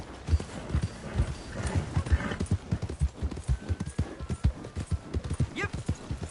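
A horse's hooves clip-clop steadily at a walking pace in Red Dead Redemption 2, with a brief whinny partway through and a voice talking over the rhythmic hoofbeats.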